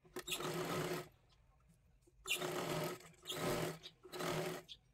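A sewing machine stitches a seam on a size 40 katori blouse in four runs, one long and three shorter, a close steady whirring buzz with brief quiet pauses between bursts.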